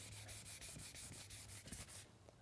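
Severe paint chips being sanded and feathered in by hand with 600 grit sandpaper: a faint, close, rhythmic back-and-forth rasping of about ten quick strokes that stops near the end.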